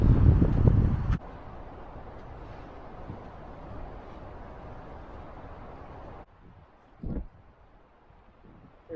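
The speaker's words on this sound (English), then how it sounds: "It's a little windy" Gusty wind on an island campsite on a big Adirondack lake buffets the microphone in a loud burst, then settles into a steady rushing roar that dips quieter near the end.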